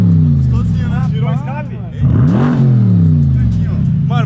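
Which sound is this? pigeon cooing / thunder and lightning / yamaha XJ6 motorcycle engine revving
yamaha XJ6 motorcycle engine revving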